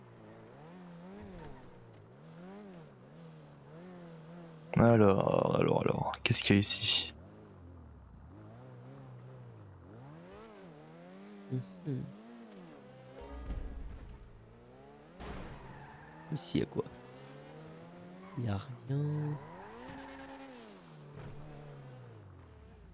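A video game car revs and weaves with rising and falling engine pitch, a loud burst of skidding tyre squeal early on, then shorter revs and squeals while a person talks over it.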